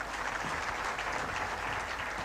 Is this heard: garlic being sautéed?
no